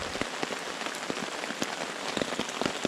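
Rain falls steadily at a backpacking park during a severe weather alert, a dense hiss of drops pattering on a nearby surface with scattered sharper taps, heard alone and close.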